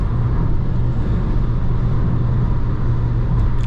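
A Chevrolet Onix Turbo car drives hard, with a loud, steady engine drone and road roar heard from inside the car throughout.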